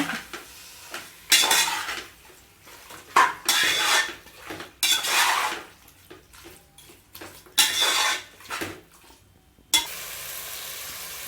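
Chicken pieces being stirred and mixed in a metal pot for a Chettinad-style biryani, with repeated scraping and clanking bursts of a spoon against the pot between brief pauses, close and alone with no talk.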